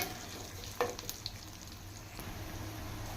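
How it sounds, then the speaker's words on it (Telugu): Garlic cloves sizzle steadily in hot oil for a tempering of Telugu tomato dal, a close continuous fry with a couple of sharp crackles near the start and no voices. "ఈ విధంగా పోపు వేస్తే వెల్లుల్లి రెబ్బలు ఎక్కువ వేసి"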